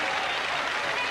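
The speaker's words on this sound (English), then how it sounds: "Great rapturous applause from the Salford supporters in the main stand over there" Salford rugby league supporters in the main stand applauding, a brief, even burst of crowd clapping heard from a distance, steady and unbroken.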